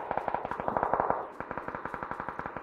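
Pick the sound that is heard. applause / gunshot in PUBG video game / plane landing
gunshot in PUBG video game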